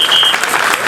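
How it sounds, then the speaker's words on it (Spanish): A crowd at a public event breaks into loud, dense applause, many hands clapping together at close range, with a brief high whistle-like tone at the start. "Un aplauso."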